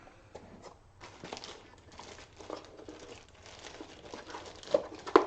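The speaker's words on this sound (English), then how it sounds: "I always just put a plastic bag over this. It just helps keep it dry." A plastic bag being crinkled over a baking soda container in a home kitchen, heard as close, irregular rustles and crackles that build toward a few sharper crunches at the end.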